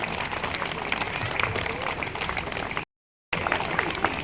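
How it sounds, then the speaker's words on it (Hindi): An audience at a CRPF foundation day and Holi celebration applauds performers, giving sustained, dense clapping with a brief silent dropout partway through before the applause resumes. "तालियों की गड़गड़ाहट कम नहीं होनी चाहिए।"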